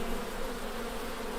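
Honeybees buzzing around a hive at an apiary, a dense, steady drone of many insects close by, with no talking.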